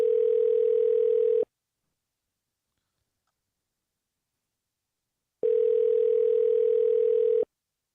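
An automated calling system plays a telephone line tone: two steady, long beeps, each about one and a half seconds, separated by several seconds of silence.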